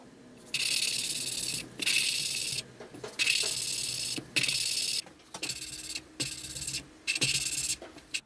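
A valve being lapped into its seat on a Suzuki GS500 cylinder head, in repeated scraping, gritty bursts of about half a second with short pauses between them, close up.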